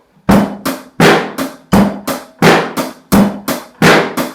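A drum kit plays a steady eighth-note beat in time with a metronome, crisp loud hits on a regular pulse with strong accents every other stroke, close and alone without talk.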